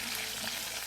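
Sprat fish frying in hot oil on an outdoor fire, a dense bright sizzle crackling steadily throughout a very short moment, close up.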